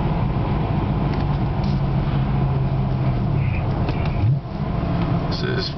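BMW E92 M3 with a Dinan midpipe and rear muffler cruising in fourth gear at about 60 mph, a steady low engine drone with light road noise, heard from inside the car and continuing without a break.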